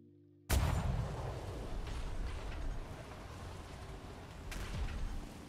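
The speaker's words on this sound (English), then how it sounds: "Fire the damn cannons" Ship cannons firing during a naval battle in a video game, a sudden deep boom followed by a long rumbling roar, with a second, weaker blast near the end, fairly faint overall.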